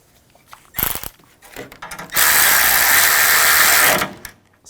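Ratchet snugging a bolt on a bumper bracket of a 2014-2020 Nissan Rogue, a few short clicking bursts followed by a steady two-second rapid ratcheting whir, close and loud.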